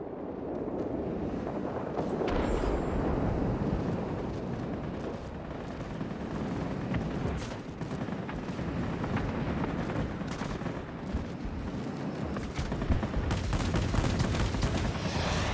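Aircraft machine guns firing in the World of Warplanes combat flight game, with Japanese Army Air Force fighters, bursts of rapid gunfire over a constant engine and wind roar, sustained and loud throughout.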